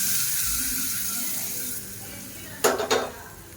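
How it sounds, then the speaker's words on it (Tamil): Mustard seeds, urad dal, curry leaves and two dried chillies tempered in hot oil for a tomato mint chutney: a low steady hiss, then two sharp, loud sizzling bursts close by near the end. "கடுகு, உளுந்து, கருவேப்பிலை, 2 வரமிளகாய் தாளித்து கொட்டிக்கலாம்"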